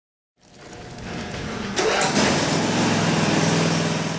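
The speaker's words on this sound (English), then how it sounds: "The engine should be run for 10 minutes to allow the treated fuel to reach the carburetor." A lawn mower engine starts from silence and settles into a steady, loud running drone, rising slightly as it catches and then holding constant, with no voices.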